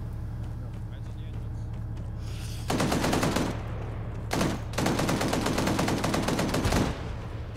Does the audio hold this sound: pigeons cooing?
no